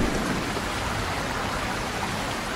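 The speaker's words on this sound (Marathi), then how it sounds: "मुसळधार पाऊस" Heavy rain pours steadily in a constant, loud, hissing wash of drops, unbroken for the whole stretch with no voices.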